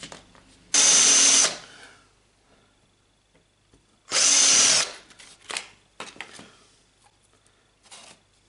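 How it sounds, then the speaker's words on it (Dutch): Two loud bursts of a small power drill boring holes into wood, each about a second long, with quieter handling clatter between and after them. "Dan ga ik al die gaten hierin boren."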